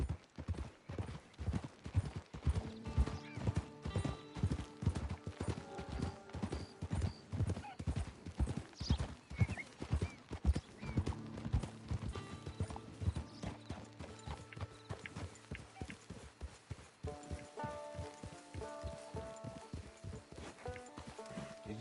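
Horse hooves clip-clopping in the Red Dead Redemption 2 video game, a brisk regular walking beat of close, crisp hoof strikes that briefly thins then picks up again, with a whinny amid the steps.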